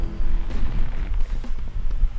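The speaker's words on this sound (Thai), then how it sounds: "ปืนใหญ่กำลังยิงผม" Cannons fire in a PS1 pirate-themed video game, a run of deep, rumbling booms and bursts close together, low and heavy with no talk over them.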